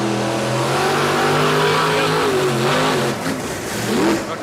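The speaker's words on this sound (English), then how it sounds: "Hercules truck comes out now." The engine of the Hercules monster truck at a Sunday afternoon monster truck show in Indiana, revving loudly and continuously with rising and falling pitch as the throttle opens, close and dominant without talk.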